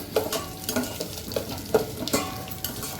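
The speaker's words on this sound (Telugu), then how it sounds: "ఎండుమిరపకాయలు ఇంకేసి వేసిన తాలింపు." Tempering of dried chillies, mustard seeds, garlic, black gram, cumin and curry leaves frying in oil, with continuous sizzling and crackling broken by irregular scraping stirs of a spoon against the pan, close and fairly quiet.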